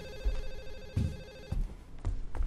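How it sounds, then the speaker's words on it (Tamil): A telephone rings in a night-shift horror video game, a steady electronic trill over low thuds and muffled background movement. "ஃபோன் சவுண்டு கேட்குது"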